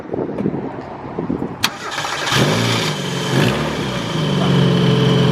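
A Mazda Miata engine cranks on the key and catches at about two seconds, then settles into a loud, steady idle close by, with a brief revving swell. Quiet talk is heard at the start.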